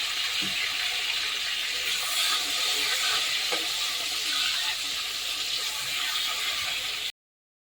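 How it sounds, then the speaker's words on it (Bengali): Long eggplant slices fry in hot oil in a pan, giving a steady, close, bubbling hiss that holds evenly for about seven seconds and then cuts off abruptly to silence. "এবার বেগুনগুলোকে আমি ভেজে নেব লাল লাল করে"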